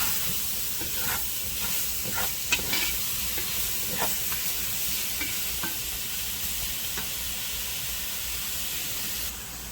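Mushrooms, onions and peppers sizzle steadily in a pan, a continuous close frying hiss broken by a few faint stirring scrapes, with no voices.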